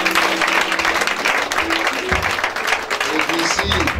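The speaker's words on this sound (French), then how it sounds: "Nous acclamons le Seigneur." Applause rising from the congregation at a Sunday church service, loud and close, with voices and some tonal sound mixed in.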